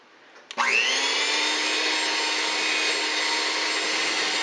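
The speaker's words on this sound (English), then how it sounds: "take your favorite blender or mixer and begin to mix all of those ingredients together" Electric mixer starts up and runs steadily, whirring loudly and continuously as it blends almond pound cake batter made from a boxed cake mix, with no talking.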